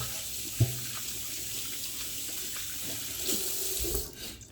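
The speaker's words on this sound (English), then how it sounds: "let me wash my hands" Hands being washed under a running kitchen tap, a steady close rush of water with a clunk near the start and splashing shifts as the hands move, tapering off at the end.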